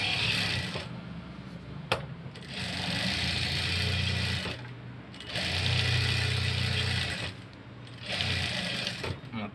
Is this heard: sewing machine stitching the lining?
yes